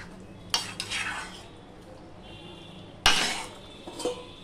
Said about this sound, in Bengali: গরম মশলা দিয়ে সম্পূর্ণটা আমি মিশিয়ে নিলাম